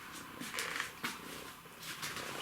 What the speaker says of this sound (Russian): Пусть он у тебя там мурчит.